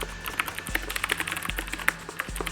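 Rapid, furious clatter of a computer keyboard during an online team shooter match, dense irregular keystrokes with a few sharper clacks, steady and close, no talking.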